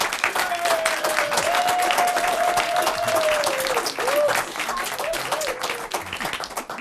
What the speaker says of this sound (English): Crowd goes wild with applause.